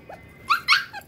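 A hunting-dog puppy lets out a few short, high yips and barks close by, with brief pauses between them and no voices.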